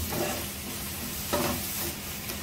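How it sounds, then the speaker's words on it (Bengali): Vegetables stir-fried in spice paste in a pan for a rui fish curry: a steady, close sizzle runs throughout, with a louder burst of hissing and scraping as the mixture is turned. "এখন আমি এটা আমার মশলার মধ্যে দিয়ে এই যে আমি আমার সবজিটা দিয়ে দিচ্ছি আমার মশলায়, দিয়ে আমি ভালো করে এটাকে এখন কষিয়ে নিব"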